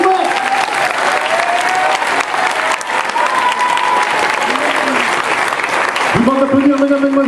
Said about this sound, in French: Je vous demande de faire un tonnerre d'applaudissements à ceux qui ont permis que ce spectacle ait lieu